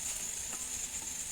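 Chopped garlic hits frying chicken in a pan, producing a steady, close hiss of sizzling oil with faint stirring scrapes and no voices.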